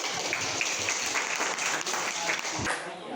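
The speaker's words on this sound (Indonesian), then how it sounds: "Oke, kita beri applause dulu dong." Applause from a classroom audience during a biology lesson, steady dense clapping throughout, cutting off abruptly near the end.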